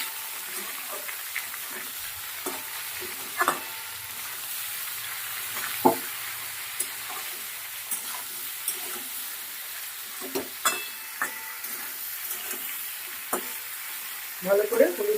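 Vegetables with turmeric and salt are stirred in a pan for a Bengali fish curry: a soft continuous sizzle runs underneath while irregular scraping strokes of the spoon come through close by, busier near the end.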